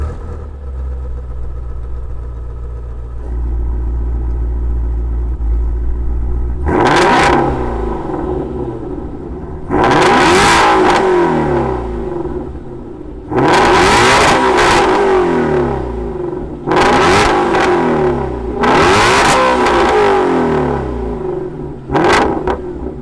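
A 2018 Ford Shelby GT350 starts with a low idle rumble, then is revved hard five times in bursts, each sharp roar falling back to a burbling idle, close and loud with no talk.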